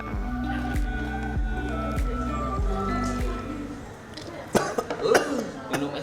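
A person coughing after drinking iced water, a few sharp bursts near the end following a steady rhythmic musical background.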